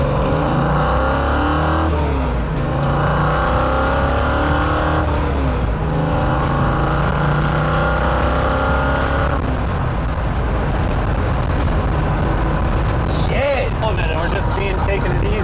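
A Ford Bronco's engine drones and shifts pitch while driving, with rising and falling revs heard from inside, running steadily under a man's conversation.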